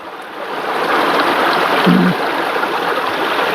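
Water moving at a mountain lake, a steady broadband wash of lapping and trickling that stays close and even throughout, with no voices over it.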